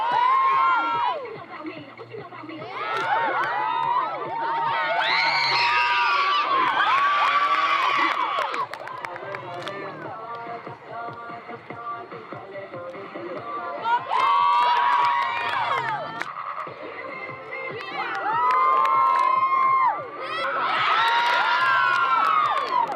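School cheer team from Sutter shouting in unison, loud rhythmic group chants and whoops repeating in bursts with brief pauses between routines, close and energetic.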